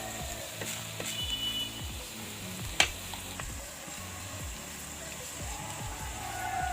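Pakoras fry in hot oil with a steady, soft sizzle, joined by repeated rhythmic scraping or stirring sounds and one sharp clink partway through.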